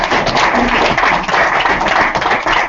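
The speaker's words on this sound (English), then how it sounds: "a big round of applause for this remarkable article" An audience applauds after an academic talk, with steady, dense clapping from many hands that holds at a loud level throughout without pause.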